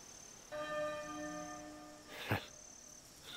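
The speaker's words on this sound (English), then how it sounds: "There's the bell again. It has a beautiful sound." A church bell rings in the video game Octopath Traveler 2, first as a sustained, shimmering ringing tone and then as a single louder strike that rings out clearly over quiet background ambience.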